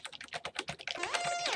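Quick, irregular clicking of keys on a computer keyboard, close and fairly quiet, running in a short burst of typing with no talk over it.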